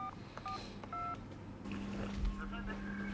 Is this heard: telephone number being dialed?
yes